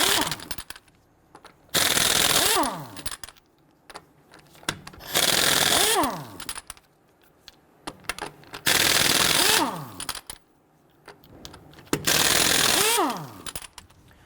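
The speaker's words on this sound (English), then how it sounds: "loosen and remove the lug nuts." Lug nuts come off the driver's side rear wheel of a 2011-2019 Ford Explorer with a 19mm socket, heard as four loud, rattling impact-wrench bursts, each ending in a falling whine, with quieter clicks in between.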